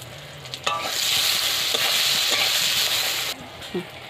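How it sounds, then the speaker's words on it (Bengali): Eggplant pieces fry in hot oil with a steady broad sizzle, stirred with a few scraping clacks of a spatula, the frying near and loud until it drops away at the end. "আমার বেগুনগুলো ভাজা হয়ে গেছে লাল লাল করে বেশ সুন্দর"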